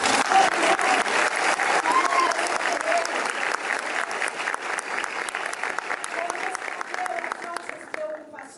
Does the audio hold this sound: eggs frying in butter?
no